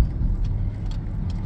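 A car driving along a road, heard from inside as a steady low engine and tyre rumble with faint ticks and rattles above it, continuous throughout.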